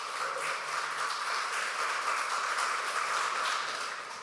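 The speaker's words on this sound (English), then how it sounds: "Big round of applause for Sasha." An audience at a tech talk gives a quiet, steady patter of applause for a speaker, soft and somewhat distant, holding evenly before tapering off at the end.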